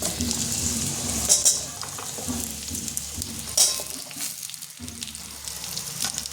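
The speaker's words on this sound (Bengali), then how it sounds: "এটা একটুখানি ভাজা ভাজা করে নেবো আমি" Sweet potato, carrot, papaya and ridge gourd frying in oil for a Bengali shukto, a steady sizzle broken by a few sharp scrapes of a spatula stirring the pan, close by and alone.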